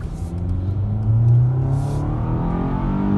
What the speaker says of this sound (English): right now I put it in the sport mode and we will floor it.